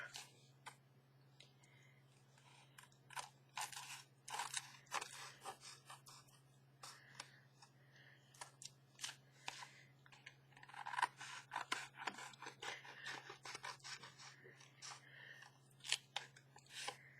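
Scissors trimming paper botanical sample tags, a series of quiet close snips and small crisp cuts at an irregular pace, with faint handling rustle between them.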